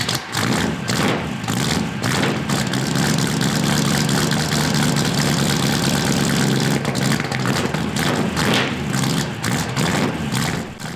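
A rebuilt old car's engine runs loud and steady nearby, a deep throbbing rumble that holds throughout with slight swells, and no one speaks.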